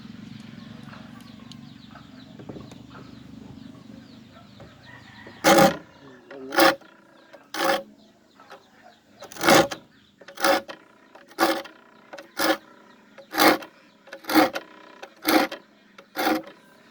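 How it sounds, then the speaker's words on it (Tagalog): A metal file rasps against a handsaw's teeth in about a dozen short, sharp strokes at a steady rhythm, following a stretch of low background hum. "Pag maghasa kayo ng lagari guys, ganyan ang hawak kayo sa paso niyan."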